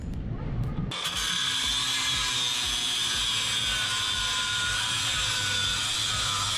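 Power tool cutting angles off a metal bracket for a Mega Moto 212 minibike: after a brief quiet start it bites in with a loud, steady, high-pitched grinding whine that holds unbroken to the end.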